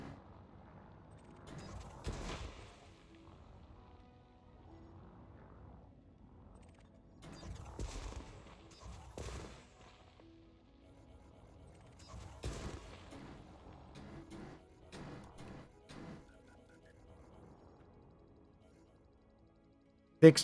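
Weapon fire and blasts from the space game Elite Dangerous while shooting off asteroid fragments for mining, coming as sparse, muffled bursts and thuds separated by quiet stretches, fairly faint overall.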